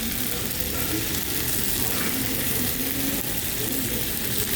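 Steady, dense crackling sizzle of galbi meat cooking on a hot stone plate over onions, continuous and close, with a faint murmur of voices in the background.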